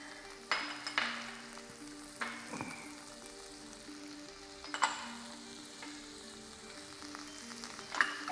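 Onions and several kinds of bell peppers frying in a pan for pad Thai noodles, a quiet sizzle broken by scattered clinks and taps of a utensil, near and fairly soft, with no talking.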